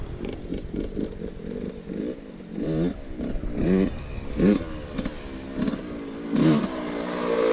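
A Yamaha YZ 65 motorcycle revs and putters nearby as a young rider turns around and comes back, the engine note rising and falling in repeated bursts.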